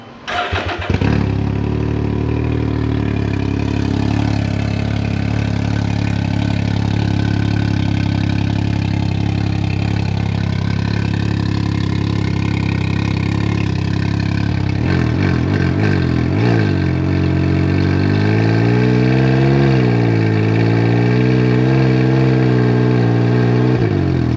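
A Can-Am Ryker Rally three-wheeler with about 6,000 miles on it runs loud and close, starting up and idling steadily before a series of rising and falling revs in the second half, with no talking.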